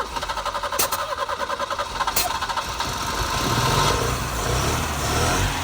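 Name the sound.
BMW E30 engine starting after sitting eight years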